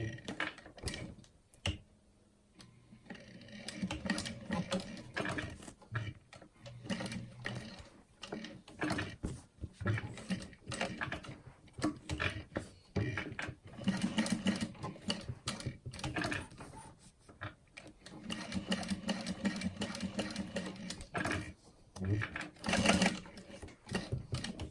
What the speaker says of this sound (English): I'm back stitching on the black glitter vinyl